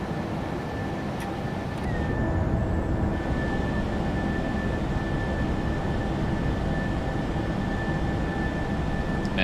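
Norwegian Air Shuttle airliner in Microsoft Flight Simulator 2024 rolling for takeoff, a steady loud broadband engine roar holding level throughout with a thin constant whine on top, no talking.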